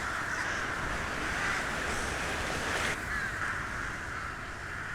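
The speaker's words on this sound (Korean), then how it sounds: "까마귀는 태양의 새다." A flock of crows caws continuously at dusk in the Korean winter wild, the overlapping calls blending into a dense, fairly loud wash that shifts midway, with no voices.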